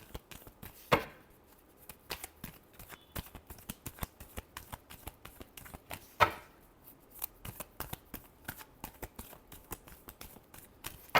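Tarot cards being shuffled by hand, a soft run of papery riffles and taps with two sharper card slaps near the start and midway, close and quiet with no voices.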